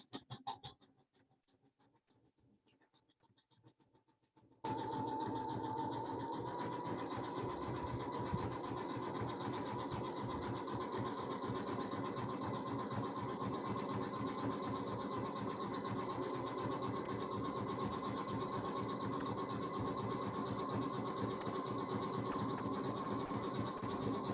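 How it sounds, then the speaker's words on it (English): A Singer sewing machine stitching fabric appliqué starts after a few seconds of near silence, then runs in a steady, continuous mechanical whir, close and even in loudness, with no voices. "it's going to stitch over those last few stitches that you just did on that other side"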